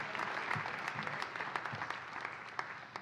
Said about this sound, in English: A big round of applause for Professor Stokes